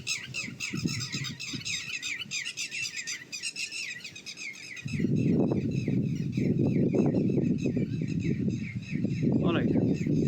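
Small birds chirp and tweet in rapid, busy bursts, loud and near, while a person talks over the second half.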